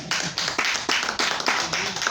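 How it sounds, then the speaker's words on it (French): Audience clapping at a church service, a rhythmic run of sharp, evenly spaced claps, about seven in two seconds, fairly close and loud with a light roomy echo. "Simple, clap for yourself."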